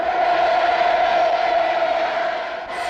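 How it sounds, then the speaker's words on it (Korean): Huge crowd of people cheering and shouting hurrahs, a continuous roaring wash of voices, loud and distant-sounding with no pauses. "격정을 터치는 만세 환호 소리는 개선문 앞에서도 울려 퍼지고 있습니다"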